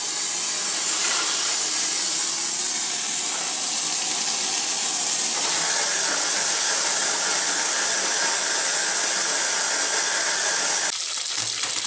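Bathtub faucet spitting air and water after a water heater flush: a loud, steady hissing spray with sputtering surges that shifts partway through and cuts off abruptly near the end.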